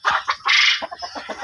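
Rooster on a heritage chicken farm giving a series of close, loud clucks and short calls in uneven bursts, with one longer drawn-out note partway through.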